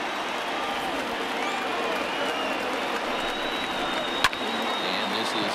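A packed baseball stadium crowd in MLB The Show 20, Cardinals against Phillies, roars in a continuous loud wall of cheering, with one sharp crack near the end.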